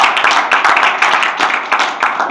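A round of applause from an audience at a talk on video game music composition: dense, loud, close clapping with sharp hand claps running continuously throughout.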